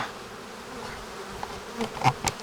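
Honeybees humming steadily around the main beehive, the founding colony, a dense continuous buzz close by with a few louder passes of single bees near the end, no talk.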